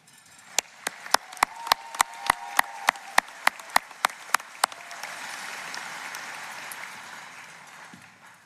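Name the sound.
applause for Jordy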